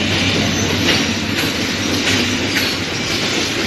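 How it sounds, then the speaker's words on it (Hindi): A train runs past close by near a station in Colombo, a loud continuous rumble with rhythmic clickety-clack of the wheels and faint squeals throughout. "पीछे ट्रेन भी जा रही है, आप देख रहे हो।"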